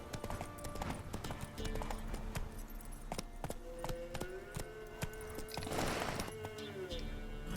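Hooves of Roach, the horse in The Witcher 3: Wild Hunt, clip-clop in a quick, steady galloping rhythm throughout, close and clear, alongside game sound effects.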